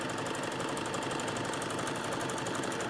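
A sewing machine stitching fabric for a bodice hums along with a fast, steady mechanical rhythm, running continuously and close by with no pauses.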